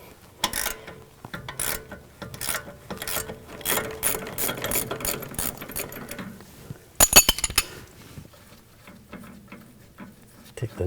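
A BMW 535i xDrive sway bar link nut being loosened with a 16mm wrench while a T30 socket holds the stud, giving repeated close ratcheting clicks in bursts, then a sharp metallic clatter.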